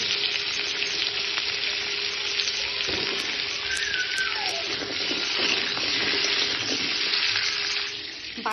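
Potatoes and papaya frying in butter for a chicken stew crackle with a continuous sizzle, with brief stirring and a few faint clinks partway, no voices.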